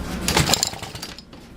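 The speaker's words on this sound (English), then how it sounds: "I had this running about 25 minutes ago, so we'll just see if it will just start up." A small gasoline engine on partial choke is pulled and sputters briefly, giving a short, loud burst of coughing, firing-like bangs that quickly die away to quiet.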